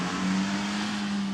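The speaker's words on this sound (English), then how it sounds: "What a car." A car on a Top Gear track lap holds a steady engine note, a sustained tonal drone that plays moderately quietly and without a break for a moment.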